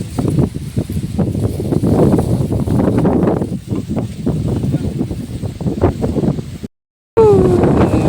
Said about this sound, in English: So heavy wind.